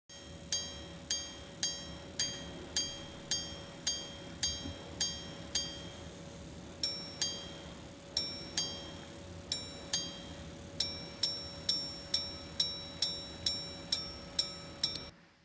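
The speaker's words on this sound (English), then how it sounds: "Because I heard eight chimes, followed by three bidas, followed by 10 single chimes." A minute repeater wristwatch striking 8:55 with small hammers against the case: eight low chimes, then three two-tone double strikes, then ten quick higher chimes, all bright, delicate and close in a quiet room.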